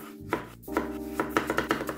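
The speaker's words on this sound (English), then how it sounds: "I'm then slicing the onion acrossways," A knife slices thinly across an onion on a cutting board, giving a run of crisp, close chops in an uneven rhythm, about eight cuts in quick succession with no talk.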